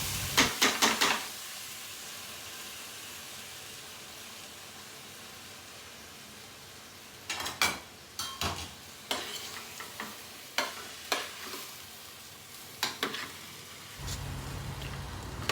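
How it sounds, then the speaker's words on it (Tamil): Rice is stirred and fried in ghee in a pan, with a steady soft sizzle and a series of scraping, clattering stirs near the end, close and moderately quiet. "இந்த கீ ஊற்றின பேனில் வந்து மிக்ஸ் பண்ணிக்கணும் ஒரு டூ மினிட்ஸ் போட்டு ஃப்ரை பண்ணுற மாதிரி"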